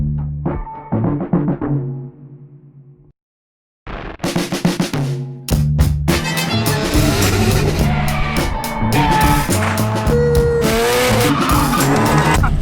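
A five-cylinder VR5 engine swapped into a VW Golf GTI Mk2 revs hard and loud, climbing and dropping in pitch after a brief pause, with sharp bursts and a sustained high-pitched roar.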